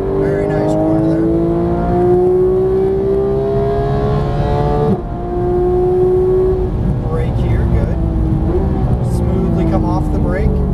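A GT3 race car engine accelerates at full throttle out of a corner, a loud, rising whine that climbs through the gears with a brief dip at a shift, heard under a driving coach's steady talk.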